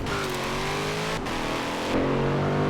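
2020 Chevrolet Corvette C8 Stingray engine in Forza Horizon 4, revving loudly and holding a steady drone, then dipping briefly before climbing again with a harder surge; no talking.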